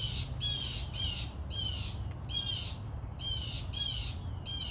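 Several birds, crow-like, give harsh rasping squawks in repeated bursts of calls across the whole stretch, fairly near, over a steady low outdoor rumble.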